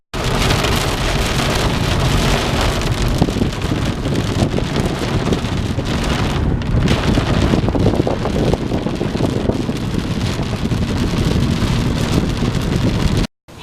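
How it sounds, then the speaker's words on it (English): A summer storm in the American South brings heavy, loud rain and gusting wind battering the microphone in a dense, continuous roar that cuts off abruptly at the end. "This is what you deal with in a summer storm in the south."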